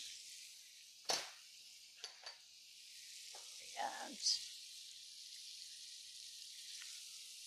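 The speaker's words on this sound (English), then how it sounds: "we're going to get it nice and seared" Chicken sears in a hot pan with olive oil for a tomato and herb dish, giving a steady, close sizzle throughout with a few brief louder pops and crackles.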